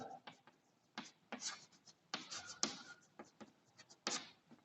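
Chalk or marker scratching out a refractive index formula during a Hindi-language physics lesson, scattered strokes in short bursts with a faint teacher's voice between.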